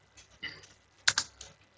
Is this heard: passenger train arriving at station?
no